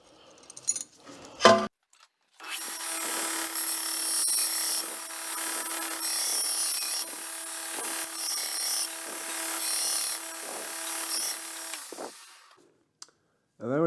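A knife blade bevel being ground on a grinding jig, a loud steady abrasive whine lasting about ten seconds with short clicks and handling noises before and after, and someone speaking briefly at the edges.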